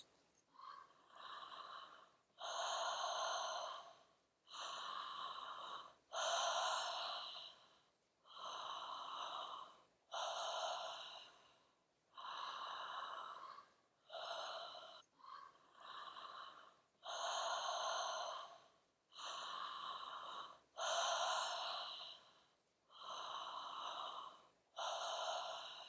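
Slow, deep breaths are drawn in and let out one after another, about a dozen full airy cycles spaced by short pauses, close and clear with no talking.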